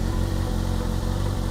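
A 600 motorcycle idles close by, its exhaust giving a steady low, throbbing rumble with even pulses and no voices over it.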